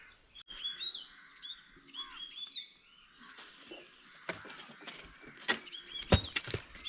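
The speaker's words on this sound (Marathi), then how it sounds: "सकाळची सुरुवातच पक्ष्यांच्या किलबिलाटाने झाली" Morning birdsong in a Konkan village near Ratnagiri: bright chirps and twittering calls repeat steadily for the first few seconds, then give way to scattered knocks and rustling handling sounds nearby.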